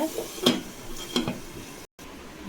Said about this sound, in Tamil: உப்பு போட்டு நல்லா கிளறிட்டு லைட்டாக லோ ஃப்ளேமில் வச்சுட்டு